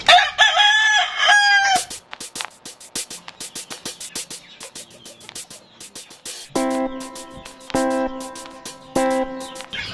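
A three-month-old Boston Roundhead rooster crows loudly up close at the start, followed by scattered clucks and clicks, then a run of rhythmic tonal calls in the second half.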